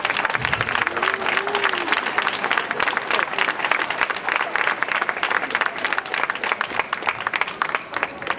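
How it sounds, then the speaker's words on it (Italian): A concert audience at a summer performance by the Filarmonica "G. Verdi" in Florence breaks into loud, sustained applause that holds steady throughout, with a brief voice near the start and some crowd noise mixed in. "un grossissimo applauso per i ragazzi, per la Filarmonica, per il Consiglio e per il Presidente."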